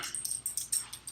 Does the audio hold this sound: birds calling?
no